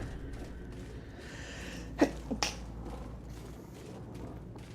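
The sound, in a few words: sneeze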